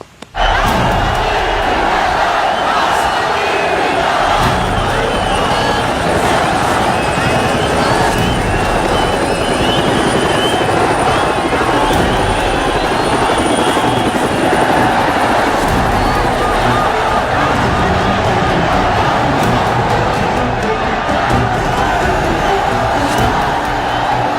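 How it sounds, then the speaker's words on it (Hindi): Loud, continuous helicopter rotor roar mixed with a cheering crowd, sustained throughout at close range. "हेलीकॉप्टर उतरा"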